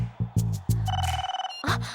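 A telephone rings in a Telugu film scene, giving a steady electronic tone that stops after about a second and a half, with low rumbling thuds before it.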